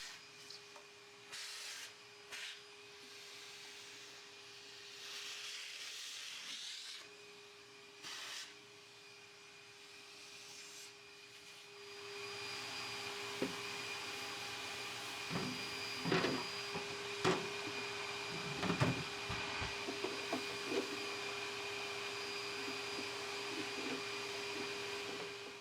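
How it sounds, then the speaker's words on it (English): Vacuum cleaner running over a Genmitsu Cubiko CNC machine, a steady mid-loud whirring drone that starts after quieter handling noises and carries on with occasional bumps and knocks. "A quick vacuum and it's good as new."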